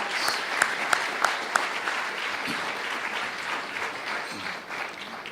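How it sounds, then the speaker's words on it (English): Audience applause fills a room at a media awards ceremony, a steady sustained clapping at moderate level with a few sharper individual claps standing out near the start. "So let's give them applause."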